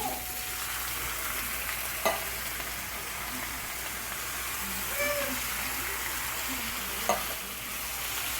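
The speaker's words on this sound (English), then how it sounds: "we're just going to mix this up and kind of let it cool down or cook down a little bit" Drained tomatoes sizzle gently in a pan while a spatula stirs them, a soft, steady frying hiss with a few brief scraping knocks, close and fairly quiet.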